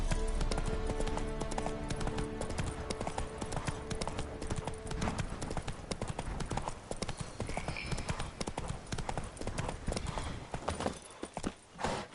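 Horse hooves clip-clopping in The Witcher 3 video game, a steady rhythmic trot of close, clear hoofbeats running throughout, easing off near the end.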